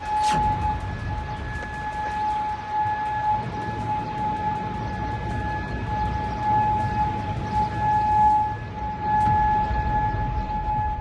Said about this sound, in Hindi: कुवैत की राजधानी कुवैत सिटी में सायरन की आवाज तेज होती जा रही है।